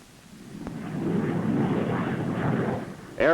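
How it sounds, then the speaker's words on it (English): Aircraft taking off on a military mission to air-drop battlefield sensors, heard as a broad, rising engine roar that swells and holds loud before a sharper burst of sound at the very end. "Aircraft take off to deliver the sensors to the selected locations."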